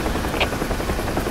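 A UH-1H Huey helicopter in the DCS combat flight simulator game, its rotor chop and turbine whine running steadily and loud, close by and with no voices.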